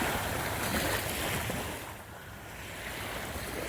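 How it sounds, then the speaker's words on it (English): Calm ocean surf washes steadily onto a Florida Keys beach at sunrise, a continuous soft hiss of gentle waves with some wind rumble across the microphone and no voices. "Look how calm the ocean is"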